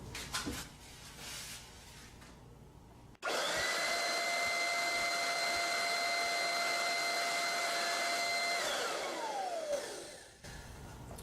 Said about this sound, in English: It's sucking the air from this side and it's blowing it from this side.